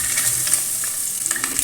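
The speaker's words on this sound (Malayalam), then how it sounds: "ഇതൊന്ന് നമ്മളൊന്ന് ചെറുതായിട്ട് വളരെ കുറച്ച് വെളിച്ചെണ്ണയിൽ ഇതൊന്ന് റോസ്റ്റ് ചെയ്തെടുക്കാം" Food roasts in a pan with a little coconut oil, a soft steady sizzle broken by a few light stirring scrapes, close and fairly quiet, with no voices.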